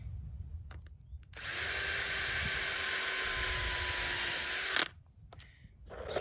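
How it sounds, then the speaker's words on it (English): A power drill whirs steadily for about three seconds at close range, drilling a hole in a wooden railway sleeper, starting and stopping abruptly, with quiet low rumble before and after. "We'll drill the first hole to put the first screw in."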